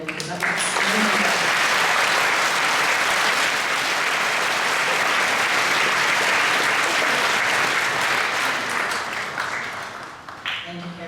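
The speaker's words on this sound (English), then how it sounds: "Can we have another round of applause for Caleb?" An audience applauds at a 2019 NAIDOC school assembly, steady loud clapping from a large crowd that holds for about ten seconds before tapering off.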